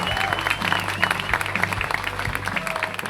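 A live studio audience at a comedy show applauds a musician guest's entrance, with steady, dense clapping and some crowd noise filling the whole stretch.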